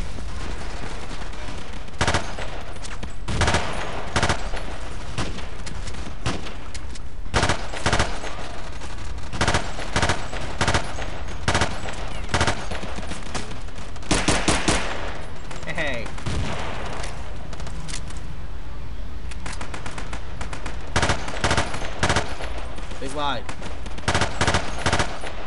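Rapid bursts of gunfire in a 16 vs 16 Battlefield 2 match, loud sharp cracks in quick clusters and short volleys throughout, with occasional talk mixed in.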